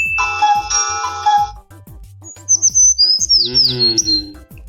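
A bright electronic chime rings out, then a bird chirps and trills in quick, clear bursts close by, with a low rhythmic thump underneath.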